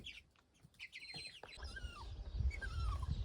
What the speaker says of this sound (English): Some chickens have arrived